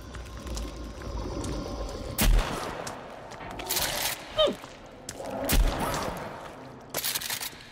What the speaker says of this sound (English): I think it might be time to use the shotgun anyway